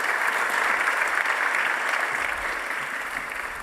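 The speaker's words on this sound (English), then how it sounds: "help me give our panel a massive round of applause" A large summit audience applauds a panel in a steady, dense wash of clapping that stays loud throughout and eases slightly near the end.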